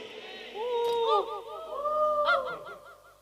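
A muscovy duck gives several nasal, honking quacks in quick succession, close and clear over a quiet background, in two short bursts.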